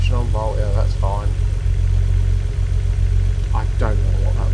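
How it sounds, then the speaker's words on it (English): A car engine idles slightly high in a high-performance super saloon, a steady low rumble running throughout while people talk over it nearby. "So it's idling slightly higher than what it would like."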